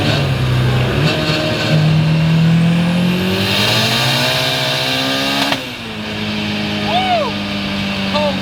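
A boosted Toyota Starlet revving toward 9000 RPM pulls hard through the gears while driving, its engine pitch climbing steadily and then dropping at a shift before rising again. Cabin voices talk over the loud, continuous engine note.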